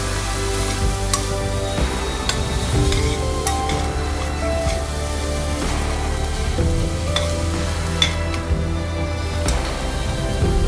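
A milk shark fish scramble sizzles in a pan on a low flame while being stirred, with a continuous soft frying hiss, scraping strokes and occasional clinks of the spoon against the metal.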